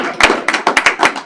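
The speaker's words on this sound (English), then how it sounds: "So one more round of applause for our fellows." A few people clapping at a school board of education meeting, a short burst of sparse, uneven claps heard close and loud, with no crowd swell behind them.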